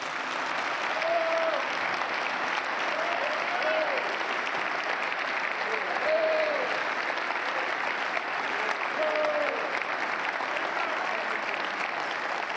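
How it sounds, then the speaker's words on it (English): A church congregation claps hands together in a steady, continuous roar of applause that holds at an even level throughout. A few voices and cheers rise briefly above it. "Clap your hands, everybody."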